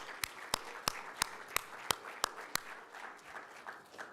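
Seminar audience applauding speakers at a conservation talk, with a run of about eight sharp, evenly spaced claps standing out over a softer wash of clapping that thins toward the end.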